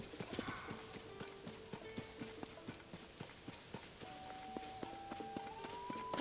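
Horse hooves clip-clop in a steady walking rhythm in Zelda: Tears of the Kingdom, fairly close and moderately loud, with tonal game music and chimes layered over the footfalls.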